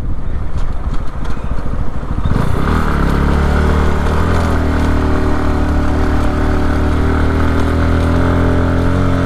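A motorcycle engine runs close and loud, with rough, uneven sputtering at first before settling into a steady, continuous drone as the bike is pushed onto a steep slope.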